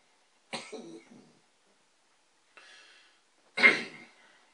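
Three coughing bursts after vaping 12 milligram e-liquid, a harsh double cough, a faint short one, then a louder rasping cough, each separated by silence.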